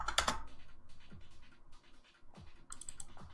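Keystrokes on a computer keyboard, a handful of separate clicks and taps spread unevenly across a few seconds, close and fairly quiet, with no talking.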